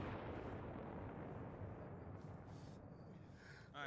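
Heavy explosive detonation in the Arma 3 military game, a sustained deep rumbling blast that rolls on for several seconds and fills the low end, with a brief crackle near the end.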